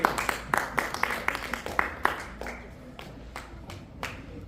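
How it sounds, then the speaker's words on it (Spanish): Applause from a small audience: uneven clapping, loud at first and thinning out over a few seconds, fairly close by with no talk. "un gran aplauso a Jesús"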